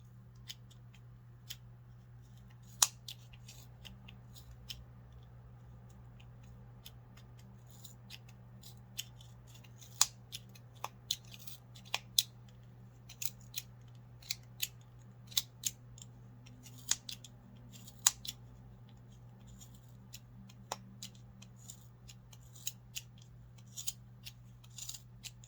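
Scissors snip through yarn fringes wound on a pom pom maker, making quiet, close, irregular sharp clicks spread across the stretch over a faint steady hum.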